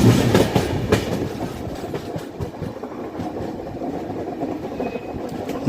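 A Jaipur–Yesvantpur superfast express (20668) running from Vasai toward Bangalore, heard from inside with a steady loud rumble and rhythmic clickety-clack of wheels over rail joints throughout.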